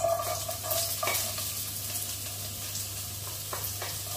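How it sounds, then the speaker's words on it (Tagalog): Chopped onion sautés in a hot pan with steady sizzling and frying. A few clinks and scrapes of a spoon stirring against the pan break in now and then. "So, para igisa natin yung garlic and onion"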